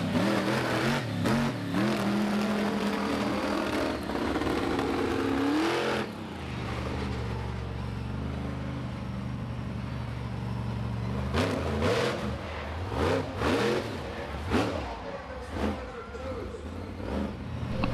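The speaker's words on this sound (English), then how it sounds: "We're moving into freestyle action for the monster trucks, the final event of the evening." A monster truck engine roars and revs during freestyle at a night speedway event, with loud sustained engine noise, rising rev swells and a commentator talking over it throughout.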